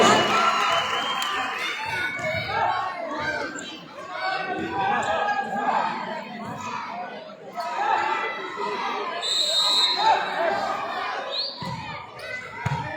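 An indoor volleyball crowd at a Pakistan Army versus Pakistan Navy match in Islamabad, with cheering, chatter and shouts swelling and fading, ball thuds audible, and a commentator talking over the noise.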